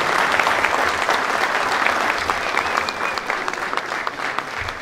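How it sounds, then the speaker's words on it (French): Steady applause from a community association gathering in France, dense and loud throughout with a busy crowd texture and no break. "On peut applaudir."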